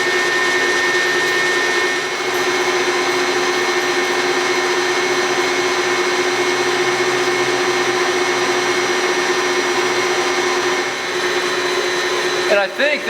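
A lathe runs with its cross slide power feed engaged, a steady droning motor whine with a constant mechanical hum, and a brief clatter at the end.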